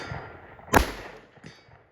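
A single sharp .177 air rifle shot fired from the top of a Polaris Ranger in a field, one close crack with a brief low thump, followed by a fainter echo or pellet strike a moment later.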